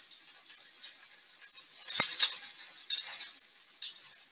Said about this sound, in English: I can hear the sizzling of the vegetables really,